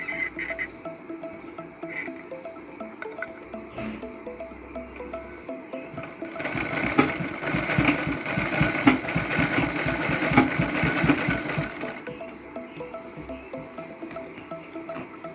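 A sewing machine stitches along the top of a sleeve being attached to a kurti, its steady rapid whirring running in bursts and growing louder through the middle stretch before easing back, close by with no talk.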